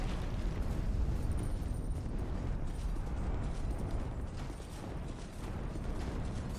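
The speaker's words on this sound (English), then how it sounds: "Now he's gonna breathe fire down." A boss breathing fire down in Dark Souls II gives a loud, continuous roaring rush with rumbling low end, sustained steadily throughout without any talk.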